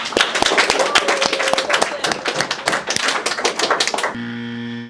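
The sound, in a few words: audience applause for Colton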